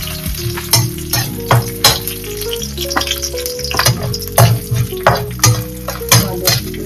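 Two dried red chillies fry in a hot home-kitchen pan, a close, steady sizzle punctuated by regular, rhythmic spatula scrapes and knocks against the metal.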